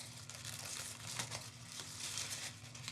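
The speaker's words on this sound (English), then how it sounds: "So just carefully unwrap here." Plastic and paper packaging crinkles as a shipped succulent arrangement with an aloe and a moon cactus is carefully unwrapped, giving soft continuous rustling and crumpling, close but quiet, with no talking.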